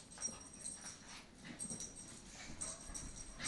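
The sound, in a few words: dogs romping and playing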